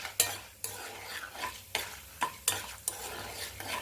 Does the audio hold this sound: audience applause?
no